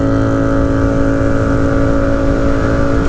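A 2018 Yamaha MT-07 motorcycle with its stock exhaust cruises along. It gives a continuous, muffled, even engine drone heard close up from the bike, with no speech.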